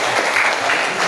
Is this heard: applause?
yes